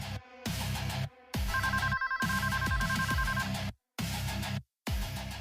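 A telephone ringtone rings over and over with no one answering, a steady electronic tone pattern cut by brief silent gaps, loud and close against a tense dramatic music bed.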